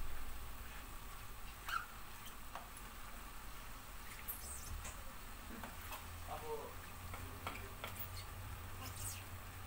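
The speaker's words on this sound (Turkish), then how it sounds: "Şöyle iyice kavuruyorum tane tane olması için." Vermicelli toasts in a pan for soup, stirred with faint scraping strokes and a light, steady crackle over a low background hum.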